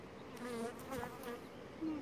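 Calm honey bees on small-cell 4.9 frames hum in a steady, close, continuous buzz, individual wingbeats rising and fading over the drone.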